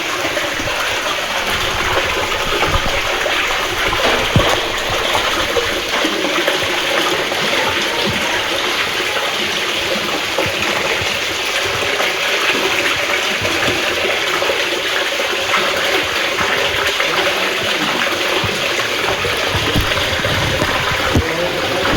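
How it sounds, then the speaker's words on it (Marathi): Spring water gushes steadily from its source at Brahmagiri, a loud continuous rushing and splashing flow that doesn't let up, with no voices over it. "तर मित्रांनो आपण बघू शकता तिथनं याचं पाणी निघतं"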